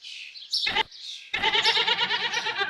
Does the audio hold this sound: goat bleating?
yes